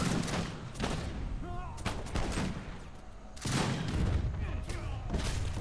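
In Age of Empires 3, a mortar bombards a fort amid a dense mix of booming impacts and crackling gunfire that stays loud and busy throughout.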